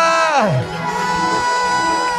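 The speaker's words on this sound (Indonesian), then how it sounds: "Beri sorak-sorak kepada Dia" Church congregation shouting and cheering in praise, a continuous crowd roar with rising whoops and bellowed cries that stays loud and dense throughout.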